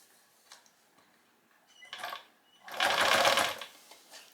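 A sewing machine runs in short bursts, stitching dark green thread along the end of a skirt's waist tie: a brief whir near two seconds, then a louder sustained run of about a second, close and alone.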